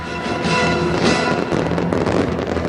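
Fireworks bursting over the Burj Khalifa during its official opening celebration in Dubai, a dense run of loud crackling booms and pops from a distance.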